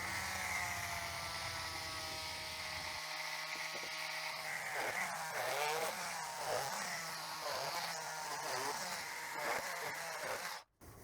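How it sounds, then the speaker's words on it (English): An oscillating tool cutting thin slivers of wood gives a close, continuous high buzzing whine, with the tone shifting as the blade bites through the wood, then stopping abruptly near the end. "I like to use an oscillating tool because it makes quick work of it"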